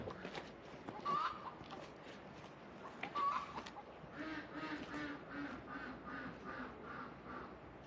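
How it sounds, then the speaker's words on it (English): A backyard hen on a homestead in isolated Alaska gives a run of clucking and cackling calls of the kind made around laying an egg, moderately near, with a steady rhythmic series of calls in the second half and no talk. "She always goes down there and does that sound. That's a laying egg sound."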